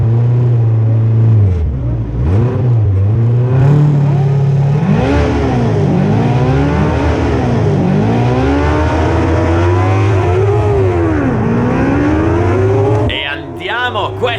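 Race cars at a race start roar close and loud, engines revving and climbing through gears in overlapping rising and falling sweeps, fading briefly near the end.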